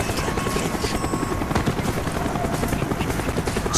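A helicopter from the video game Call of Duty: Black Ops thumps steadily overhead in a fast, loud, continuous rotor chop, the beat sitting close with a whining engine hum beneath.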